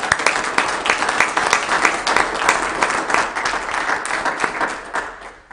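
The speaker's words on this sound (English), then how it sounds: "If you'll give them a round of applause," An audience at a Weber County Commission meeting gives a dense, close round of applause for an animal clinic award, sustained and fairly loud before tapering off at the end.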